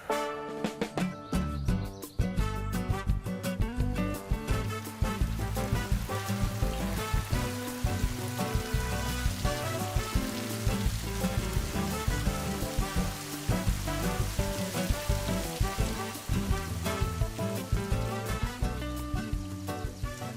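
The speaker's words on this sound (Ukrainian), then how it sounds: "Триває дощ, але нам вдалося гарно половити." Rain falls steadily at a fishing spot while bighead carp fishing, a continuous dense patter of drops on surfaces that stays even and moderately loud throughout, without voices.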